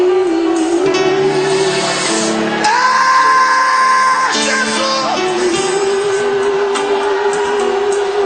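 A worship congregation shouts, whoops and yells together in a loud, sustained roar of many voices, with rising cries swelling and fading across the crowd throughout.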